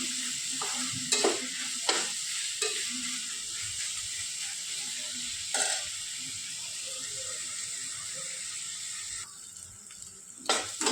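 Onion and tomato sauté in a pan for a South Indian–style crab masala, a steady sizzle under repeated scraping stir strokes, close and continuous with no talk.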